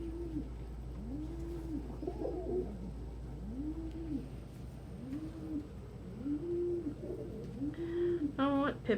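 Pet pigeons or doves coo in soft, repeated rising-and-falling calls at an even pace against a low background hum, with a brief higher chirp near the end.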